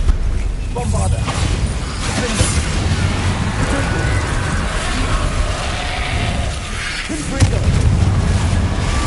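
A Bombarda spell blast in the Hogwarts Legacy game on PS5: loud, sustained booming explosion noise with crackling bursts filling the whole stretch, game voices and dialogue running underneath.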